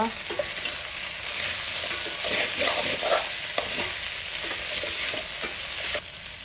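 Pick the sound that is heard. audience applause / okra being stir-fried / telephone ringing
okra being stir-fried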